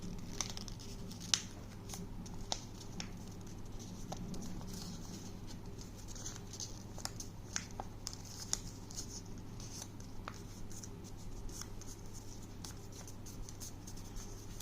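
Paper folded by hand for an origami dragon, with light crinkles, creases and scattered crisp taps over steady faint background hum, close and quiet, no talking.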